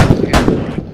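Gunfire in a Bradley infantry combat game on the Narva map, a burst of loud close shots with heavy sharp reports and one strong blast near the middle, dense and continuous through the second.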